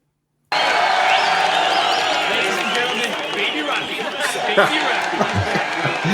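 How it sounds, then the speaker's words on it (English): A large crowd cheers, claps and chatters continuously for the boxer Rocky in a busy arena scene from the film Rocky Balboa, and voices can be picked out within the din. "everybody cheering Rocky on"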